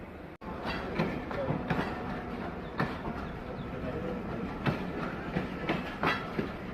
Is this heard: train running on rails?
yes